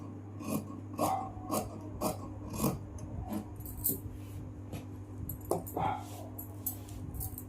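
Scissors cut through blouse fabric in repeated rasping snips, a regular rhythm of close, moderately loud strokes over a low steady hum, with no talking.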